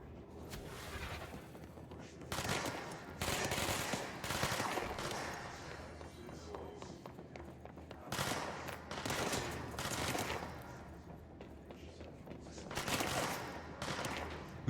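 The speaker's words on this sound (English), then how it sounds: "Who's shooting at me?" Gunfire in the video game Control: repeated bursts of rapid automatic fire and heavier shots, loud and close, coming in waves with short lulls between volleys.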